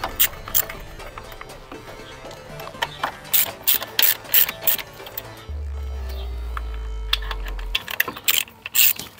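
A ratchet wrench loosens cover bolts on a BMW F800 GS motorcycle during a chain kit change, giving bursts of sharp, close clicking. A steady low hum runs briefly midway.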